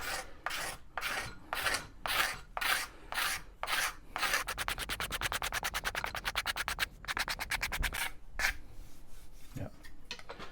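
Coarse-grit abrasive rubs across a steel pick axe head to clear deep scratches, first in slow rhythmic strokes, then in rapid back-and-forth scraping, close and loud with no talk.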